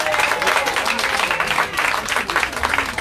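A crowd at a staff meeting claps for an event sponsor, a steady, close wash of many hands that pulses in small surges for the whole stretch.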